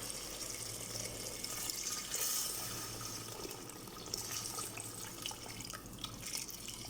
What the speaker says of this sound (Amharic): አሁን ውሃ ከልሰዋለሁ።